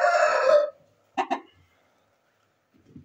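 An Asil rooster gives a short crow, followed by a couple of brief clucks and a faint cluck at the end, with quiet gaps between.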